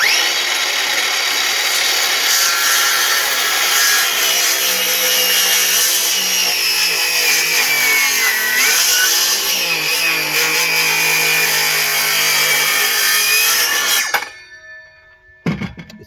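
A power saw makes a double bevel hip-valley cut through wood on a wobbly sawhorse, a loud, steady, near whine running about fourteen seconds before cutting off abruptly, followed by a brief clatter.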